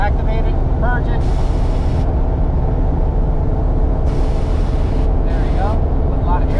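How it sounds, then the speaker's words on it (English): Nitrous purge on a notchback car, heard as bursts of broadband hissing that start and stop several times over a steady loud engine drone. A voice talks over part of it. "So now I'm going to do a third gear hit with nitrous, activate it, purge it."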